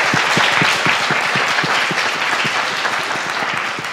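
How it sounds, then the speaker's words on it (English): Applause from an audience at a comics and science fiction convention session, a dense, loud wash of clapping with distinct individual claps, tapering slightly toward the end. "let's give a big round of applause"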